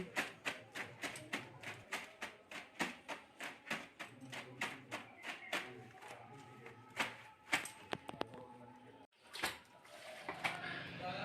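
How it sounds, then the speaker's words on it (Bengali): Clothes being hand-washed with tap water, a close run of rhythmic wet slaps and scrubbing thuds that keep a steady beat, then break off briefly near the end before splashing resumes. "বাসনগুলো ধোয়ার পর কিছু জামা কাপড় ছিল সেইগুলো কেচে নিচ্ছি"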